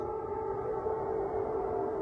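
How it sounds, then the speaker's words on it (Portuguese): A steady, wailing air raid siren in Lviv, Ukraine, at night holds a sustained tone throughout, loud and continuous with no voices over it. "Sirenes soam aqui em Lviv."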